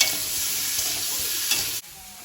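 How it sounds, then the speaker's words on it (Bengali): Pointed gourd and potatoes frying in oil in a pan, a steady loud sizzle with stirring that cuts off abruptly near the end, heard alone without talk. "পটলটা একটু ভাজা ভাজা করে দিয়েছি এবার আলুটা দিয়ে দেবো"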